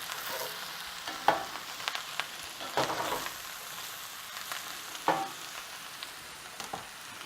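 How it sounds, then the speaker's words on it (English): Spinach and mushrooms sauté in a pan with a quiet, continuous sizzle, broken by a few sharper clinks and scrapes as they are stirred around. "once everything's in there, you just want to kind of stir them around a little bit"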